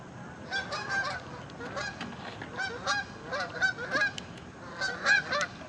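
A flock of geese honking overhead at dusk on a gloomy evening, repeated overlapping calls in irregular bursts, moderately distant and fairly clear with no talk.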